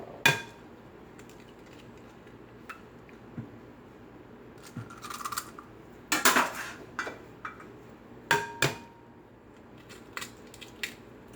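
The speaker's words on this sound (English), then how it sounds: "We're gonna put the 3 eggs in here" Eggs go into a mixing bowl with several sharp cracks and knocks against the rim, spaced irregularly, plus light clinks and shuffling in between, close and otherwise quiet.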